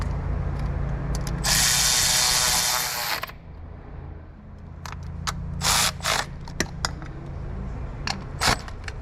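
A power wrench cranks and ratchets on cylinder head bolts of a Dodge Power Wagon 6.4L engine, a sustained close mechanical burst followed by several shorter clicking bursts, with no talking.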